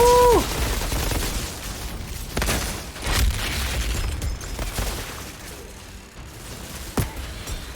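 Bomb explosions and gunfire in the video game Outriders: a dense wash of booms and sharp shots, loud and continuous, with several distinct cracks cutting through the barrage.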